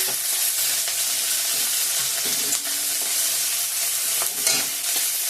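Dry red chillies, bay leaf, panch phoron and ginger frying in hot oil as the base for chicken kosha: a loud, steady, crackling sizzle with a few stirring scrapes, and no voices.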